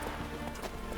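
Horse galloping in The Witcher 3, a steady clip-clop of hooves running at a close, even level, with no voices over it.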